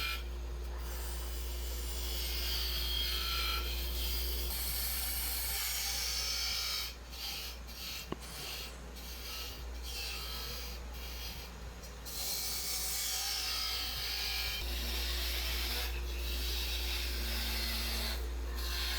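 A wooden lidded box lid being shaped on a lathe gives a steady rasping, scraping hiss of the cutting tool against spinning wood, with a constant low motor hum and a few brief interruptions midway.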